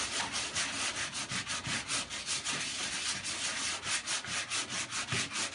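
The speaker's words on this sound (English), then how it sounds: "we want to exaggerate the sanding" Rhythmic sandpaper strokes rubbing over a dent repair, worked in circular motions into a crack, a steady close scratchy hiss pulsing with each pass and no voices.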